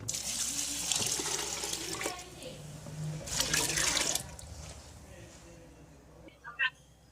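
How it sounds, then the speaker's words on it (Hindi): Water runs and splashes into a pot of moong dal being made dhaba style, a steady wet rushing that swells and fades for several seconds, ending with a brief clink near the end. "अब इसके अंदर हम डालेंगे पानी"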